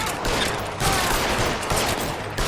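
Game gunfire in a dense, loud fusillade of overlapping shots, with several sharp reports over a short span and a final crack at the end.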